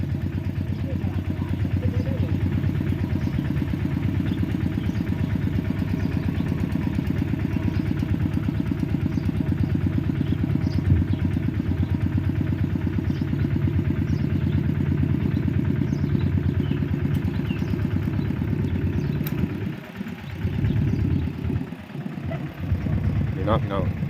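A tractor engine runs continuously for a long stretch, a steady nearby clattering chug that drops out briefly near the end, with occasional voices over it.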